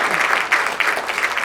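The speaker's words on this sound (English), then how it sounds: "Another round of applause for Mr." An audience at an alumni awards ceremony claps steadily and loudly throughout, a dense wash of applause filling the room without pause.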